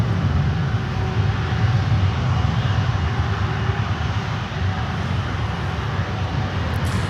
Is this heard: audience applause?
no